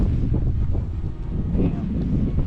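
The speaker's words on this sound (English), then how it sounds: "It's kind of windy out here too. Kind of windy out here on the road." Wind on a road roars across the microphone in a loud, continuous low rumble with gusty swells, heard alone and unbroken throughout.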